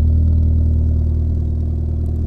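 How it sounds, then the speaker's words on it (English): An Opel Astra turbo with the Z20LET engine and a 76mm exhaust idles after a cold start on a cold day, giving a close, steady, deep low rumble with no pauses. "You can hear how much deeper the exhaust is now"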